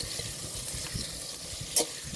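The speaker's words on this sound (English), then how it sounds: "We are frying our onion." Chopped onion frying for fried rice, a steady close sizzle and crackle in a hot pan with faint stirring clinks and one brief sharp scrape near the end.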